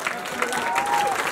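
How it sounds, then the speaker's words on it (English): Audience applause at an appreciation gathering, a brief steady wash of clapping from a crowd close by, with a faint tone sounding over it. "Please give a big round of applause."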